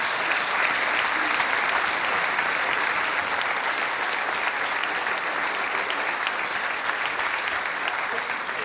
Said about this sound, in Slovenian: gremo še en velik aplavz